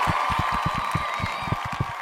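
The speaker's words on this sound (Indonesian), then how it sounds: "tepuk tangan teman-teman" Podcast participants clap for a guest, a quick burst of close, evenly spaced claps over a steady background hum.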